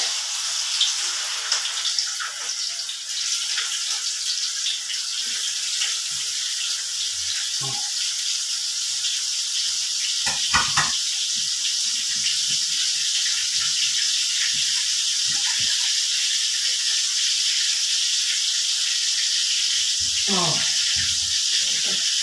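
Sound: fermented pork ribs frying in hot oil

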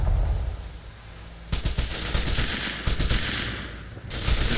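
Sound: machine gun fire in military simulator video game

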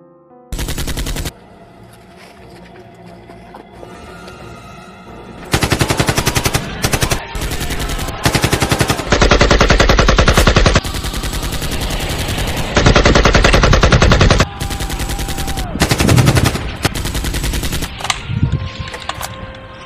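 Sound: machine gun fire

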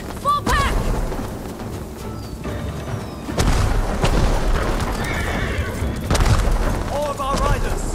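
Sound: horses neighing and galloping in video game

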